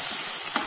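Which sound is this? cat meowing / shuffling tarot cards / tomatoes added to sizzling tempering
tomatoes added to sizzling tempering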